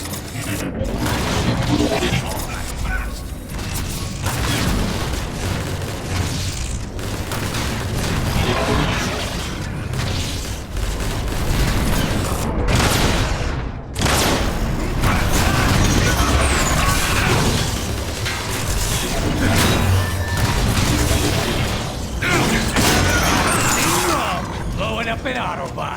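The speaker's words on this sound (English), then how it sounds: "Blowing up an Autobot." Explosions and clanking mechanical combat from blowing up an Autobot in Transformers: War for Cybertron, a dense continuous wall of blasts, metallic crashes and game effects with voices mixed in throughout.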